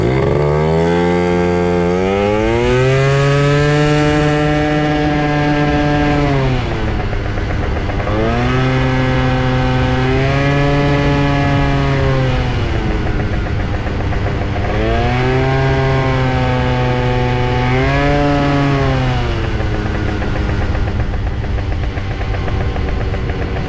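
Light scooter engine while riding in hot weather, droning loud and close with a buzzing whine that rises and falls in repeated swells as the throttle opens and eases off.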